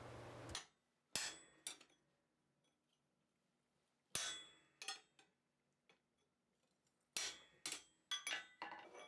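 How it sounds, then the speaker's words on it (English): Chisel shearing a thin slug of split steel bar at the forge while making a cooking fork: three separate bursts of sharp metallic hammer strikes, each a few ringing blows, with quiet gaps between. "use the chisel to shear out that thin slug that's left at the bottom of the split"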